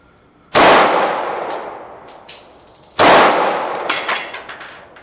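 Two loud Keltec PF9 pistol shots fired outdoors at a target, each a sharp crack with a ringing tail and clanging echoes, spaced about two and a half seconds apart.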